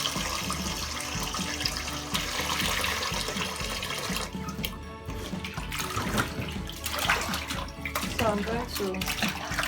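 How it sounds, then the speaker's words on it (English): Meat for egusi soup being washed under running water: a steady splashing stream from a tap with wet handling noises throughout, close by, while a person talks over it. "So let me wash the meat."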